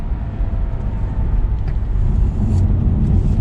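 A 2022 Lexus IS300 cruising at normal speed, its low, steady road and engine hum rolling continuously and evenly throughout, smooth and muted with no sharp peaks.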